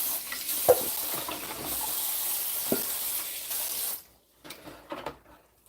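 Tap water runs steadily into a sieve over a bowl while celery is washed, a close continuous rush with a few clunks, then it cuts off leaving quieter handling sounds.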